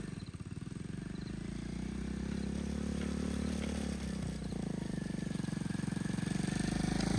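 A mini bike motorcycle engine runs at a cabin in Northern Michigan, putting out a close, steady chugging putter whose pitch and loudness rise slowly as it revs, with no talking.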